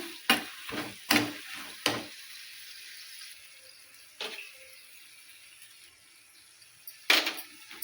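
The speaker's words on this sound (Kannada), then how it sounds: "ಈಗ ಉಪ್ಪು ಹಾಕಿ ಚೆಂದಾಗಿ ತಿರುಗಾಡ್ತಾನೆ." Avalakki chuda, flattened rice, is stirred with salt in a pan: a few close scraping strokes, then a quieter stretch and one more scrape near the end.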